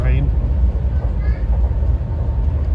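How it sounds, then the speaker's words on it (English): A PATH train rolls past near Harrison, New Jersey, heard from aboard an NJ Transit Gladstone Branch train as a steady rumble, with a voice talking over it. "there's a PATH train."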